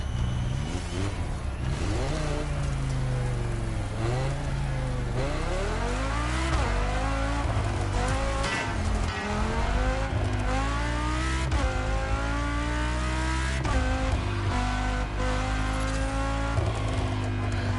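A Mustang Fastback muscle car in the racing game The Crew Motorfest, its engine revving up and down through repeated gear changes with rising and falling pitch, loud and continuous with no speech.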